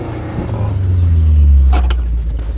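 Engine of a cheap off-road car rising and holding a low rumbling rev for a couple of seconds, close and loud, followed by a few brief sharp knocks or clunks near the end.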